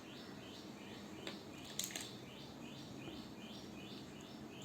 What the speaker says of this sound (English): Can you hear birds are chirping?